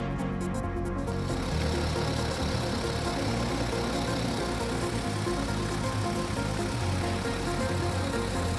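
A car engine with a ZF 8HP automatic gearbox runs steadily at idle while the transmission is shifted through every gear, giving a continuous low, even hum with no speech.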